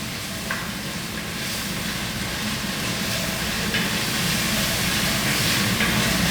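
Onion sautéing in leftover oil in a pan gives a steady, even sizzle and crackle. It stays constant and close throughout, with no talking.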